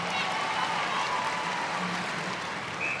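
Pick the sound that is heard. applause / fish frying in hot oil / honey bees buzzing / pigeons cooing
applause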